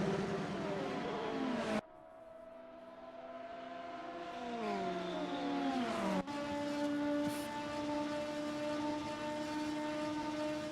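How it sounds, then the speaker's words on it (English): Race cars in a sim racing game at Daytona drone with engine whine that rises and falls through gear changes, loud and continuous, with a sharp cut in the sound partway through. "all of the cars still having to battle through lap traffic"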